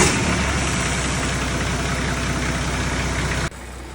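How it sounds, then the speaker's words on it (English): A Nissan TD42 diesel engine turning over and running, steady and loud with a rough low-pitched throb, then cut off abruptly near the end. "Then finally it was time to crank over the motor and see if it starts."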